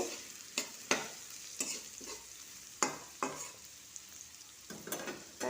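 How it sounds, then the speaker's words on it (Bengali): Cabbage sautéing in a pan with salt and turmeric, a steady close sizzle broken by several sharp scraping stirs spaced through the clip, no talking. "লবণ আর হলুদটা দিয়ে দিয়েছি দিয়ে একটু কষিয়ে নেবো"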